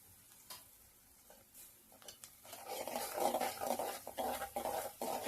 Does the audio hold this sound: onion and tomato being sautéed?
yes